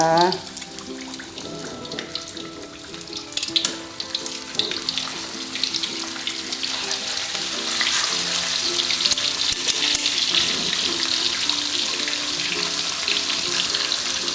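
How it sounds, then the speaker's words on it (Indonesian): Gourami fish sizzles loudly in hot oil, a continuous crackling hiss that grows busier toward the end, with faint clinks in the background. "Kita goreng dulu ya ibu-ibu sambil mempersiapkan bumbu-bumbunya."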